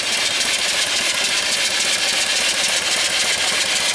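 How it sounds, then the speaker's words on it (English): A steam engine fed by a 20-inch boiler drives an alternator through a 12-inch pulley, producing a steady, dense mechanical chuff and whir that runs close and unbroken for the whole stretch, with no talking. "I'm running an alternator here off one of my steam engines, off of a 20-inch boiler that I have"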